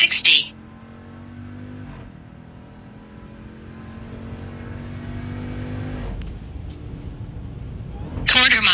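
A Jeep Grand Cherokee Trackhawk accelerates hard from a standstill on a street, its engine note climbing steadily through the gears with a brief shift dip midway, heard from inside the cabin.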